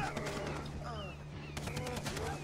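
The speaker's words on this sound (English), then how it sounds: "Who are they shooting at?" Gunfire in the Far Cry 3 video game, heard as rapid bursts of automatic shots with sharp repeated cracks that intensify near the end, playing at moderate level over game ambience.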